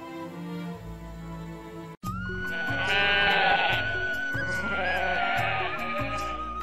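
Goats bleat close by and loudly, one sustained wavering call following another after a brief pause, with no voices over them.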